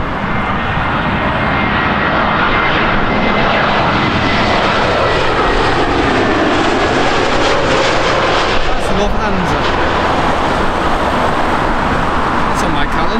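A Lufthansa jet passes at London Heathrow Airport, its engine roar loud and steady throughout, swelling slightly as it goes by, with distant road traffic underneath.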